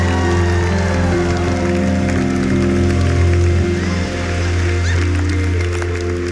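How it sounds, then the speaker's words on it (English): A church congregation claps loudly and continuously as a collective offering, dense sustained applause mixed with music and crowd noise throughout. "We're going to give God one huge clap offering."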